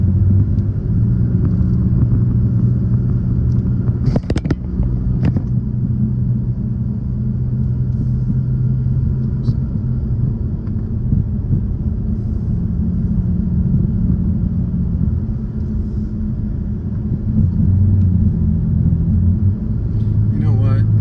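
A car climbs Highway 162, Bucks Lake Road, in the mountains of Plumas National Forest, its steady low engine and road rumble droning continuously, with a brief knock partway through.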